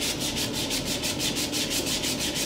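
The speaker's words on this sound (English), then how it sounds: "now I'm just going to hand sand these," Steady hand sanding of the old finish on a wooden piano bench, a continuous rhythmic scrubbing with regular back-and-forth strokes, close and fairly loud, with no talk.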